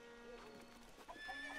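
A horse whinnies briefly in the video game Breath of the Wild, over a steady background of game music and ambient tones.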